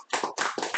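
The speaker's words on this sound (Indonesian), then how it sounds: "Cuman ada di kick off Prudential teman-teman, tepuk tangan dong." A small group claps at a Prudential kick-off event, several quick close bursts of hand claps in uneven rhythm, loud and near, with no talking.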